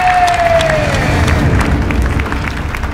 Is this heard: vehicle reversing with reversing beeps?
no